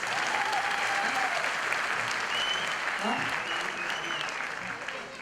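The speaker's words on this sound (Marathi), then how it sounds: "पुन्हा एकदा टाळ्या वाजवा." An audience claps steadily throughout at an award distribution ceremony during a community get-together, sustained applause that fades slightly toward the end.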